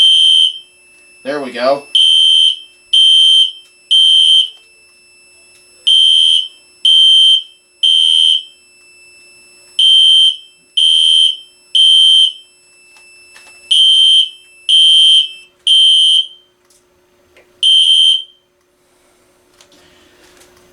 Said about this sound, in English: Zone 2 is working, the smoke detector is working, everything seems to be working just fine.